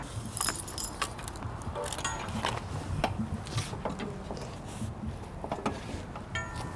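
A metal cable lock rattles and jangles as it is threaded around the wheels and frame of a bicycle, with irregular clinks and scrapes close by and a low traffic rumble behind.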